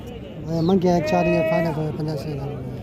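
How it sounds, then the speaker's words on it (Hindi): A goat bleats at a livestock market in Kambar: one drawn-out, wavering bleat, close and clear over a steady background of crowd noise. "बड़ी खूबसूरत सी बकरी है।"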